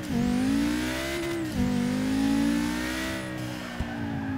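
A Volkswagen R and an Audi RS3 accelerate hard through the gears in a race, a loud, close engine drone climbing in pitch, dropping sharply at a shift around mid-way, then climbing again before easing off.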